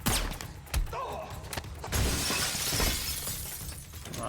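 Glass shatters in a scene from the action film John Wick, a sharp crash followed by scattered breaking debris and thuds, loud and dense over several seconds with no voices.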